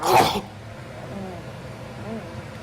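A short, sharp sneeze bursts out at the start, followed by quiet background noise.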